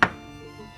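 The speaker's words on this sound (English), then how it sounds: "Dry shrimps is best to chop, not to grind" A knife strikes a cutting board once, chopping dried shrimps for turnip cake, a sharp close thud that fades quickly into quiet.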